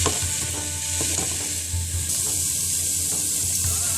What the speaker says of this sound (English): I added 3 big tablespoons of garlic, and you're just going to let all of this cook until it softens a little